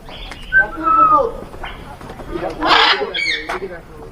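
Zoo birds including macaws, cockatiels and golden pheasants give whistled and squawking calls at Darjeeling zoo, several short calls nearby with people talking in between.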